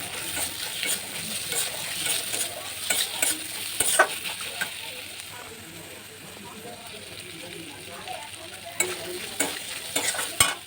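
Fried potato pieces and boiled chickpeas are stir-fried with spices in a pan, a soft sizzle broken by repeated scraping and clattering spatula strokes that come in bursts with a quieter lull in between.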